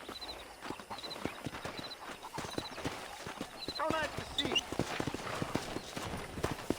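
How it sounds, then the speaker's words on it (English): In the video game Red Dead Redemption, hooves clip-clop rapidly as a pack of wild horses gallops close by, with a whinny and a voice speaking briefly over the rhythmic beats. "there's a pack of wild horses nearby"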